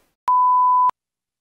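A single clean electronic notification beep, a steady mid-pitched tone lasting about 0.6 seconds with a sharp start and stop, alone against silence.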